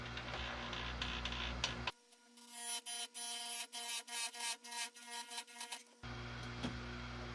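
A Timber Tuff bench chain grinder sharpens a chainsaw chain in a run of short, rhythmic bursts of grinding, each tooth taking a brief bite, between stretches of steady motor hum.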